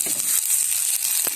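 Wheat flour roti cooking on a hot stone griddle in a Sri Lankan village kitchen, a steady close sizzle with a few soft scraping taps.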